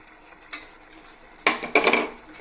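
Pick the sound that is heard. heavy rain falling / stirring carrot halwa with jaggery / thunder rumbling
stirring carrot halwa with jaggery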